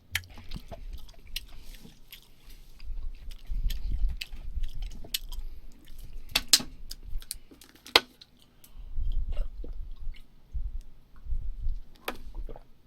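Close, wet chewing with smacking and crunchy bites while eating Japanese curry, fried Spam and fried egg, irregular mouth sounds repeating throughout with short pauses between mouthfuls.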